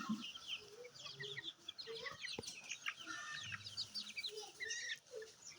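One-month-old deshi and tiger chicken chicks let loose in a yard, keeping up a busy stream of high peeping chirps and soft clucks close by, with a brief sharp knock partway through.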